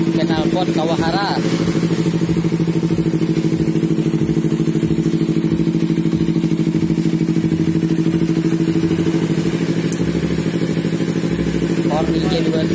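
A Kawasaki Ninja 250 FI motorcycle with an aftermarket exhaust idles steadily with a deep, rumbling, uneven throb, close by, with brief voices speaking over it at the start and end.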